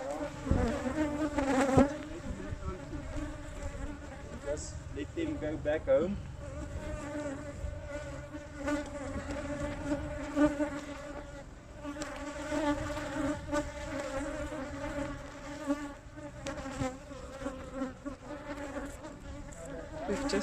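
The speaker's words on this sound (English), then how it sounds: "the bees are still following us" Bees swarm in a dense, continuous buzz around beekeepers walking away from a just-inspected hive of aggressive killer bees, steady and close throughout while a person speaks briefly.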